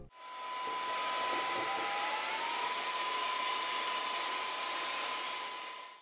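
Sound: Xiaomi Mijia cordless vacuum mop running at increased suction

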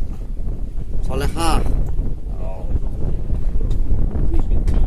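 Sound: strong wind at sea on a fishing boat

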